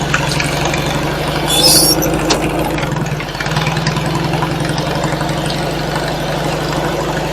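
A tractor engine, barely running before repair, idles steadily with a continuous low mechanical chug close by, briefly swelling louder near the start and then settling into an even, unbroken rumble.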